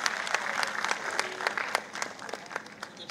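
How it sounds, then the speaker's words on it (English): Audience at a regional quiz final gives a round of applause, dense overlapping clapping from a mid-sized crowd in a hall, steady and fairly loud for the whole stretch before thinning slightly toward the end. "Can we have a round of applause?"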